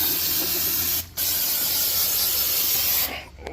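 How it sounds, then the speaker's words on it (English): An aerosol can sprays rust coating onto the rear body of a Cadillac in a steady, loud, close hiss, broken by a brief pause partway through and ending with a short stop near the end. "we're gonna spray it down and then coat that rust real quick"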